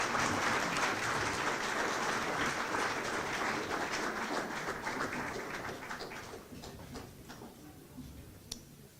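An audience applauds for city council candidates at a Davenport forum. The clapping is a dense, sustained wash that gradually thins out and fades, leaving a few scattered claps at the end.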